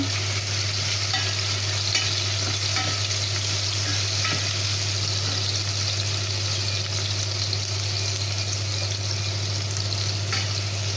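Onions sauté in a pan as a base for minestrone soup, giving a steady, dense sizzle with light stirring scrapes that run continuously and close up, with no voices.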